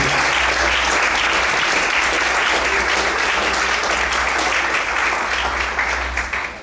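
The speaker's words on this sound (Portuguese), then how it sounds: "Você pode aplaudir ao Senhor essa noite." A church congregation applauding together, a dense, loud, sustained clapping that fills the room evenly and fades slightly at the end.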